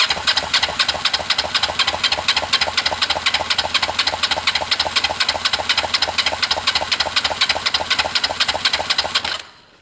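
A Kawasaki ER5 motorcycle engine cranks on the starter with the throttle held wide open during a compression test. It chugs in fast, even, rhythmic pulses for nearly ten seconds, then cuts off abruptly. The sound is loud and close.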